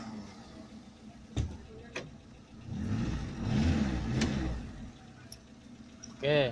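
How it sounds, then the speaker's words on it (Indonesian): A car's starter cranks and the engine catches and revs up, rising to a loud, rumbling run at close range before settling, with a brief voice at the end. "Pertama kita starter dulu, bos."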